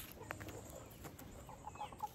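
Homestead chickens cluck softly at a distance, with a few short calls scattered over a faint outdoor background and no talking.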